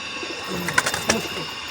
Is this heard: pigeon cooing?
yes